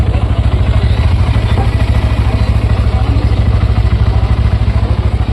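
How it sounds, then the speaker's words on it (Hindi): A 2025 Honda CB Hornet 125 motorcycle idling, its 125 cc engine and exhaust giving a steady, close, loud pulsing thrum with no change in pace. "आइए अब इसका इंजन साउंड सुन लेते हैं,"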